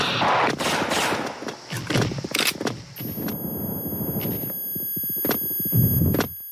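Explosions in a video game: loud, crackling blasts and rapid gunfire-like bursts follow one another throughout, with a sharp bang near the end over steady game noise.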